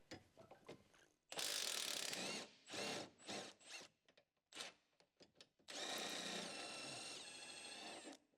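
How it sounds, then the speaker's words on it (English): An electric impact wrench with an 18 mm short socket removes the front mounting bolt of the lower control arm on a 2015 Ford Escape, running in loud close bursts: one long, several short, then a sustained final run. "Use an 18 mm short socket with an electric impact wrench to remove the mounting bolt at the front of the lower control arm."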